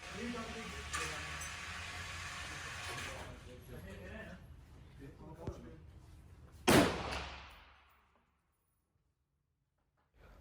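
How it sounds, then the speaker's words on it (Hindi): A sharp, loud report from an M4 rifle on a 25 m zeroing range rings out, then trails off in a fading echo. Quieter activity and voices come before it, and near-silence follows. "हमने अपने पहले 3 फायर कर लिए हैं"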